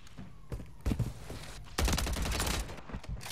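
Rapid semi-automatic gunfire in Call of Duty: Modern Warfare 3 multiplayer, bursts of sharp shots around one second and a louder sustained volley from about 1.8 seconds, with no talking.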